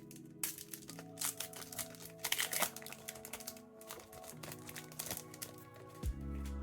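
A foil card packet of Chinese goddess story trading cards is torn open and its wrapper crinkled, giving dense close crackling and tearing in irregular bursts, over a soft background tone.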